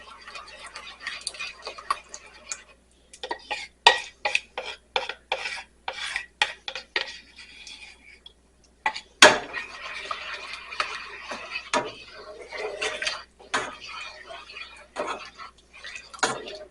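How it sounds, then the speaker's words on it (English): A spoon stirs a homemade hamburger-helper-style sauce in a pot while an ingredient is slowly added, producing close, irregular scraping and clinking against the metal with brief pauses between strokes. "We're going to slowly add that in and stir the whole time that you're adding it."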